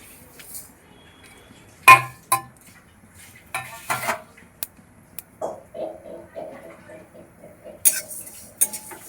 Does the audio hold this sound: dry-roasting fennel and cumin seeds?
yes